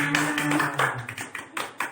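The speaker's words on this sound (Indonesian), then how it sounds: "Tepuk tangan untuk Ibu Eva." A small group claps for Ibu Eva during a nutrition lesson on stunting, a few uneven claps close by, fading out within two seconds.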